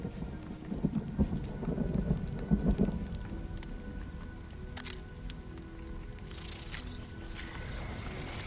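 Thunderstorm in the LEGO mode of the video game Fortnite: a steady, fairly faint hiss of rain with a low rumble of thunder swelling early on and fading, then a continuous wash of rain with a few brief clicks.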